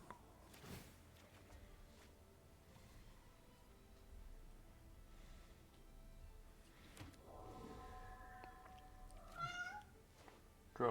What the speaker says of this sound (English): you might have heard my kitty